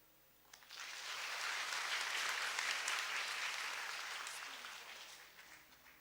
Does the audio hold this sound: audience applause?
yes